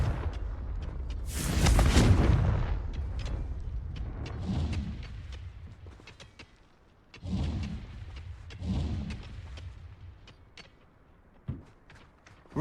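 Confringo blasting-curse explosions in a Harry Potter video game: several deep, rumbling booms with crackling debris, a big blast early, then a couple more bursts and scattered sharp impacts, loud and close with no talking.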